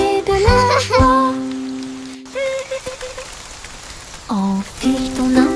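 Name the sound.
raindrops falling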